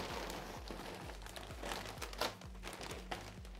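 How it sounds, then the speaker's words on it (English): Cheetos being poured into a plastic bag, a quiet close crinkling of plastic with light rattling crunches as the snacks tumble in, a few sharper rustles standing out over a low steady hum. "pour about half a bag of the Cheetos into another plastic bag"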